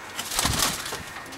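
Donek pigeons in a fancy-breed loft give soft, low cooing murmurs at close range, with a brief rustle like wing movement in the middle, alone without talk.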